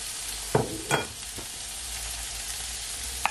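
Ketchup sauce is stirred in a pot with a couple of quick spoon strokes near the start, then a steady soft sizzle hisses on alone.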